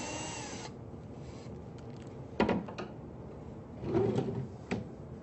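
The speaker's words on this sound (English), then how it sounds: "Drawer sits pretty level. It's moving in and out nice and easy." A wooden cabinet drawer slides in and out on newly installed drawer slides in a woodworking shop, giving a few short, close rolling swishes and light thumps with quiet pauses between them, no voices.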